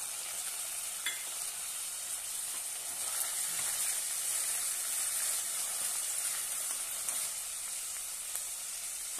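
Onions and finely chopped half tomato frying in a pan with curry leaves for a dry ghevda and potato sabzi, giving a steady, close, moderately loud sizzle and hiss with faint stirring, no talking.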